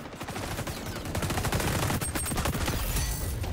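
Rapid automatic gunfire from an LVOA-C rifle in the shooter game XDefiant, a dense, loud fusillade of overlapping shots with a constant roar and no break.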